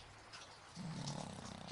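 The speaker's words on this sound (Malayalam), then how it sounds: "കൂർക്കം വലിക്കുന്ന ശബ്ദം കേൾക്കാം." An elderly grandmother snoring in her sleep, a low rasping snore swelling up in the second half after quiet breathing, close by and alone.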